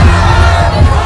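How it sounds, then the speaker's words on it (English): A torch-bearing crowd shouts in the video game The Life and Suffering of Sir Brante, a loud, dense roar of many voices yelling together, close and continuous. "The torch-bearing crowd is moving towards the silver tree."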